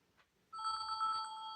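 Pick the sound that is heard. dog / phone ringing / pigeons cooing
phone ringing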